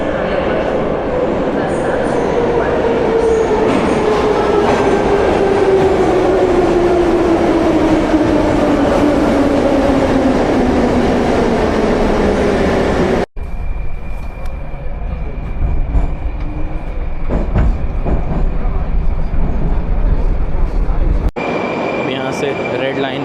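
A metro train at a station in Tashkent rumbles past loud and close, with a falling whine as it slows. A steady hum and station noise follow after a sharp cut.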